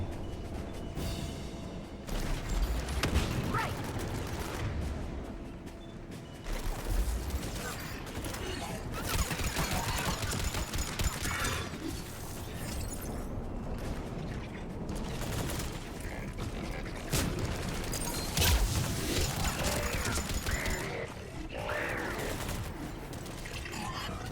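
Pistol fire in the Mass Effect 3 Legendary Edition game: dense, repeated sharp shots and clattering mechanical bursts over a continuous busy wash of game noise, steady and fairly loud throughout with no speech.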